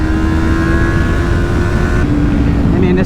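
Close, loud engine of a 2022 Kawasaki Ninja 400 sport bike pulling hard under steady throttle, droning with wind noise and shifting pitch near the end.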